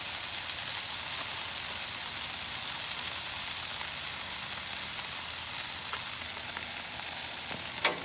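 Smashburgers fry on a Blackstone flat-top griddle with a steady, close, loud sizzle and hiss that runs unbroken throughout, with a few faint scraping ticks near the end.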